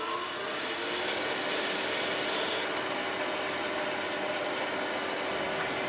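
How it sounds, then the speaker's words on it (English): Sandpaper rubbing against the end of a spinning wooden bottle stopper on a woodturning lathe, a steady close hiss over the motor's whine that brightens partway through. "briefly sand off the end of this bottle stopper here"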